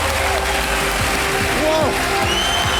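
A television quiz-show studio audience claps in a loud, continuous wash while music plays underneath and a host's voice speaks over it.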